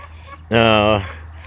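A single loud rooster call during an early morning rooster fight, close and harsh, lasting about half a second over quiet background noise.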